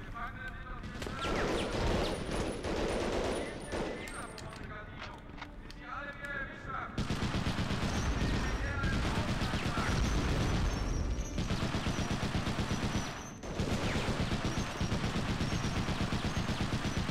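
Machine gun fire in the WWII shooter Medal of Honor: Underground, sustained rapid bursts that grow louder and denser partway through, with brief pauses and other game noise, and people talking at times.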